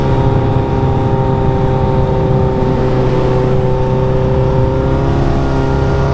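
A vehicle riding through turns, heard as a loud, close, steady engine drone with a sustained tonal hum under rushing noise and no clear changes in pitch.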